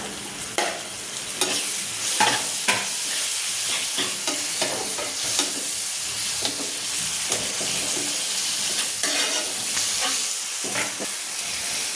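Green chili and finely chopped tomato sauté in a pan for an eggplant bharit, with a continuous close sizzle broken by repeated scraping stirs of a spoon against the pan.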